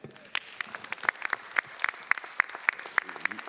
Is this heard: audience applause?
yes